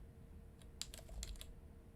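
Computer keyboard typing while programming: a short burst of several quick, faint key clicks over a quiet room hum.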